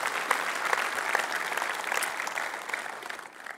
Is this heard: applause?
yes